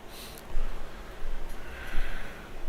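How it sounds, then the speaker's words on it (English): Heavy breathing as a sound effect in a tabletop role-playing game session, with several loud, breathy snort-like exhales and inhales pulsing close to the microphone over a few seconds. "where you hear the heavy breathing coming from"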